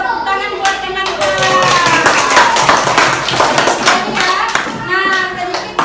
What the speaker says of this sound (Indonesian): Coba tepuk tangan buat teman-teman.